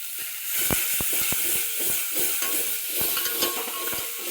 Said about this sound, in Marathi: थोडी जिरी मोहरी टाकायची बरं का, आणि मसाला टाकायचा लगेच. चांगलं तेलात फ्राय करायचं बरं का.